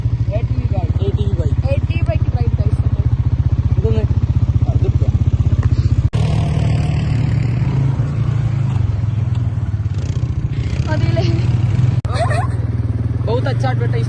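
A motorcycle engine runs steadily and loud throughout on a desert trip near Jaisalmer in the Thar, Rajasthan, a low continuous drone with brief breaks, while people talk over it.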